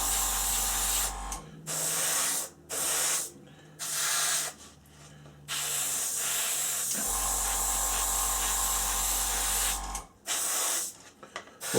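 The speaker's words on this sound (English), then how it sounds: "We're applying a good liberal coat of the XF19 just to make sure that everything's covered" An airbrush sprays Tamiya XF19 paint onto a plastic model interior in repeated close hissing bursts of one to three seconds, separated by brief pauses, with a low compressor hum underneath.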